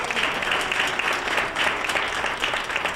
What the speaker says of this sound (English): let's give a big round of applause to the students